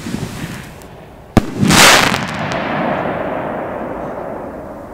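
Fireworks go off close by: a sharp loud crack, then a bright fizzing burst that crackles and hisses and slowly fades into a lingering rumble.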